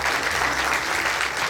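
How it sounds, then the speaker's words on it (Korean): Steady, dense audience applause at a corporate lecture by a TOEIC instructor, sustained and fairly loud throughout with no breaks and no voices on top. "다시 한 번 더 박수 부탁드리겠습니다."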